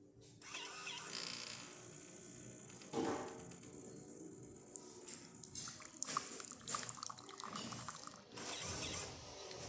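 A Jura Impressa J7 espresso machine, freshly serviced with new gaskets and pump, hisses and gurgles as it dispenses hot water, with mechanical clicks and a brief louder spurt partway through.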